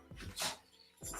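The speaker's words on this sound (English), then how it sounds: "My dogs sound excited." Dogs bark and whimper excitedly at close range in a short burst of yips and whines, with the loudest peak midway and another rise at the end. No one talks over them.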